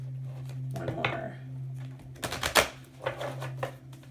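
Angel oracle cards being shuffled in bursts of rapid riffling and clattering, with a steady low hum underneath and pauses between the shuffles.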